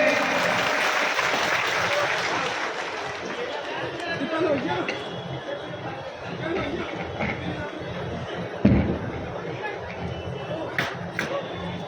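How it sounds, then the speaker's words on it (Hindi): A large crowd applauds at a Bahujan Samaj Party political rally, steady clapping mixed with chatter that continues for several seconds and then thins out, with a few louder bursts near the end. "सभी जोरदार तालियों से स्वागत करेंगे।"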